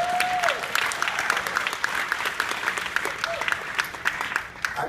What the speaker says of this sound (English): I know I get a clap on that one.